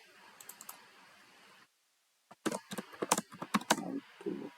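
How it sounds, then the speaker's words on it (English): Typing on a computer keyboard comes first as a few faint taps, then after a pause as a loud burst of quick, irregular key clicks close by. "you can type the text which you want to type here"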